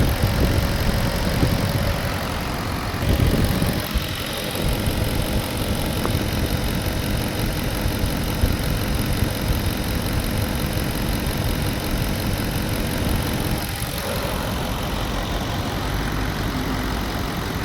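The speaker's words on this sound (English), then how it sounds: "So you can see the car's idling nice." A Porsche Cayenne Turbo engine idles steadily with a low, even rumble that runs on without pause, a brief rougher patch near the start.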